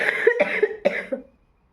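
A person coughs three times in quick succession, close to the microphone, the harsh bursts fading into silence afterward.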